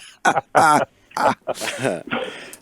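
A person coughs and clears their throat several times in quick, harsh bursts, close and loud, with short pauses between.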